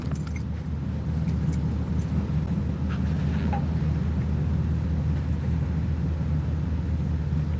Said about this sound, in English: But this car sounds great.